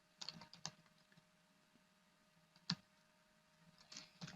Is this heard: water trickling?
no